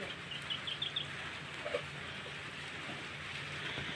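Steady, dense rain hiss fills a farm field scene, with flooding, a few faint chirps early on and a low rumble underneath.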